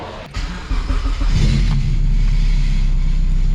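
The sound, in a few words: K-swapped car engine revving on a dyno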